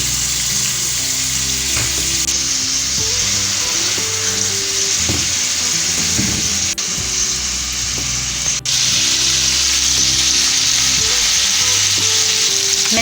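A beef mince burger patty frying on high heat in a frying pan, seasoned with salt and black pepper, giving a loud continuous sizzle with a few faint clicks and taps underneath.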